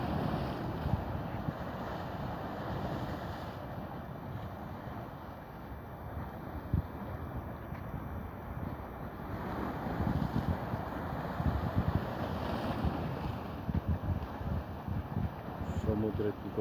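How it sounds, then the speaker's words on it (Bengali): Seaside surf roars in a broad, continuous wash of rough water, with wind buffeting the microphone and the level swelling and easing as waves surge. "সমুদ্রের কি গর্জন!"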